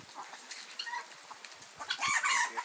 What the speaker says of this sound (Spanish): Ahí están las gallinas.